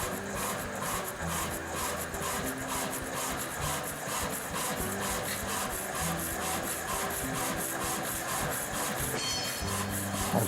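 An industrial cut-off saw, hydraulically fed slowly down into a steel workpiece, grinds and rasps in a steady, loud, continuous cut with a repeating scraping rhythm throughout.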